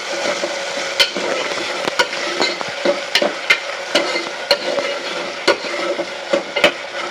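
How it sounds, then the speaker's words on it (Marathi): Chopped tomatoes fry with garlic paste in a pan, stirred with a spatula that knocks the pan in irregular sharp clacks over a continuous sizzle. "आता हे टोमॅटो टाकल्यानंतर त्यांना असं चांगलं मिक्स करून घ्यायचं."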